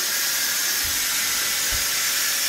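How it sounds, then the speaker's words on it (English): An Instant Pot pressure cooker vents steam after being switched from sealed to release, giving a loud, continuous broadband hiss that holds steady throughout, with a couple of faint low thumps underneath. "you have to turn it from sealed to release, and it releases all the steam"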